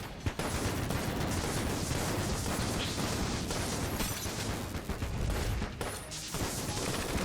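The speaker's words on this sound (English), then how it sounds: "We're gonna be shooting a ton of explosions." Dense, continuous barrage of explosions and gunfire from a grenade launcher in the video game Enter the Gungeon, loud and relentless with overlapping bursts and pops throughout.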